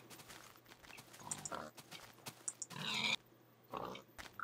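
Pig grunts and oinks from the Minecraft video game come in short bursts, with other in-game clicks and effects alongside.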